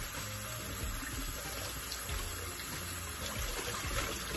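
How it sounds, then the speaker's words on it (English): Tap water running over beef short ribs in a kitchen sink, a steady close splashing and trickling stream with no pauses throughout. "Just want to rinse the meat"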